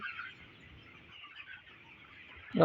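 Soft, continuous clucking from a flock of broiler chickens on a farm, fairly faint and steady, with a brief louder bird call right at the end.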